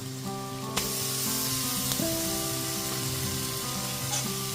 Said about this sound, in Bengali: আদা রসুন বাটাটা দিয়েও খুব ভালো মতো পেঁয়াজের সাথে কষিয়ে নেব